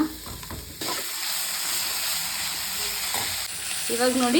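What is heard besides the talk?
onions frying in a pan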